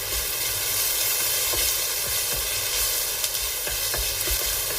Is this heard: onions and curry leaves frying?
yes